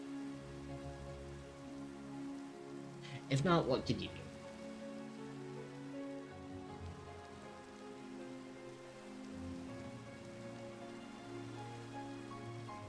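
Steady rainfall in the Cozymon video game, a soft continuous patter running through the whole stretch beneath a talking voice, with a brief louder burst of in-game sound near the start.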